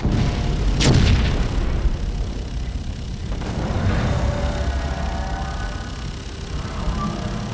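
Null cannon artillery fire in the Dust 514 sci-fi shooter: a sharp heavy blast early on, followed by rolling booms and rumbling battlefield noise that keeps going without any talk.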